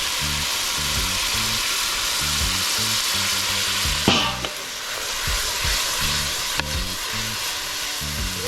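Saltfish and coconut milk sizzle steadily in a pan for Jamaican stuffed yam, with loud continuous frying hiss and a few sharp scraping strokes of a spoon stirring partway through.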